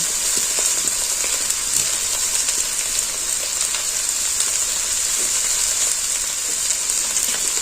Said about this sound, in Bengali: আবারও এটাকে আমি নেড়ে ছেড়ে ভালো করে কষিয়ে নিচ্ছি